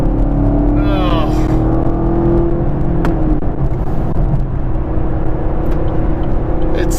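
Loud, steady engine drone from a 2017 Chevrolet Camaro SS 1LE with a 455-horsepower V8 while driving, a sustained low rumble with a rising, whirring pitch sweep early on, heard from inside the car.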